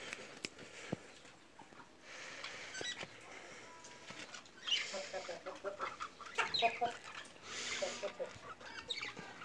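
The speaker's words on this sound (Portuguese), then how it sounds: "Comprei essas duas franguinhas, duas irmãs. Esse galo já tinha." Young hens and a rooster clucking in a backyard coop among other birds, soft scattered clucks and rustling at moderate distance, fairly faint and continuous over several seconds with light background noise.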